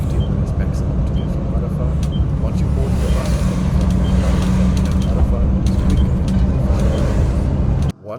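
A bus drives from Arafah toward Makkah during Hajj, with a steady low engine and road rumble throughout and people talking over it, ending in a sudden cut.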